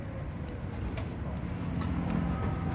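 Pigeons coo softly and close by, low murmuring calls rolling on over a rough background noise.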